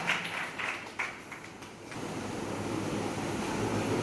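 An audience at a student induction ceremony breaks into sustained applause to welcome a speaker, a dense wash of many hands clapping that swells after a few scattered claps and stays loud and even.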